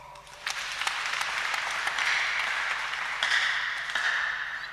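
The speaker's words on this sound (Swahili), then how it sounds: "twarĩkĩrĩria na blessed team makofi" A church congregation at a Kikuyu service applauds the blessed team with a steady patter of many hands clapping. The clapping is moderately loud and continuous.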